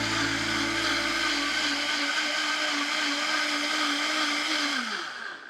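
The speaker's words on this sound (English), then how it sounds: "I am going to puree this until completely smooth." A blender whirs loudly and steadily as it purees onion, garlic, salt and black pepper, the motor pitch shifting once early on before winding down at the end.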